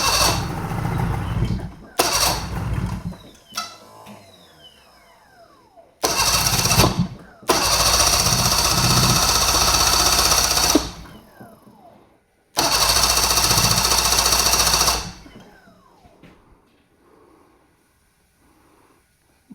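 A 2015 Ski-Doo 600 Sport snowmobile engine is cranked repeatedly on choke, several sputtering attempts and longer rough bursts of cranking separated by pauses, close and loud.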